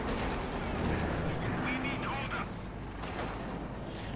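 Machine gun fire from a newly installed turret in Company of Heroes 2, a Sherman and .50 caliber crew nearby, rattling bursts amid battle noise under continuous talk, fairly faint in the mix.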